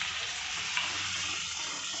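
Half of four chopped onions sautéing over a low flame in oil with clove and cardamom, with a soft, steady sizzle and faint stirring, close and quiet.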